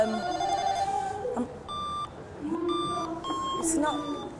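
Toy telephone from Woolworths giving short, bright electronic ring bursts in repeated pairs, moderately loud, with some background murmur between the rings.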